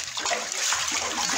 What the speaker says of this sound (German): Überall sind hohe Wellen.